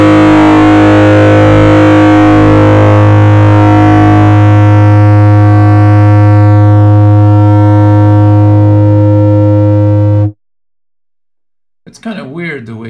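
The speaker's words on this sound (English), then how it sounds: "I'll play a power chord here." One sustained power chord on a heavily distorted electric guitar rings loud and steady for about ten seconds before a noise gate chops it off abruptly into silence, then a short burst of sound returns.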